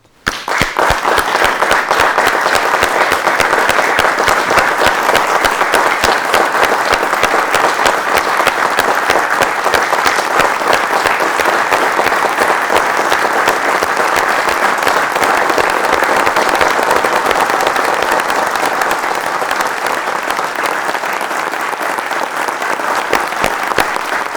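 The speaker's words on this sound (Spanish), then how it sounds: "que les demos un aplauso de bienvenida a todas las personas que se acercan por información" Sustained applause from an audience welcoming attendees to a public information meeting of Neuróticos Anónimos, steady and dense for over twenty seconds, fading slightly at the end.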